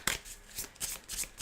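Playing cards for the board game Harmonies are shuffled in a quick run of papery riffles close to the microphone, four or five soft ruffling bursts in rapid succession.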